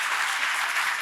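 Audience applause at a college opening session, a dense, even wash of clapping filling the whole moment.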